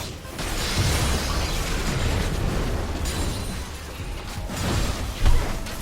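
Turret destruction in the League of Legends video game, a sustained rumbling explosion with crumbling debris and a sharper burst near the end, loud and without talk.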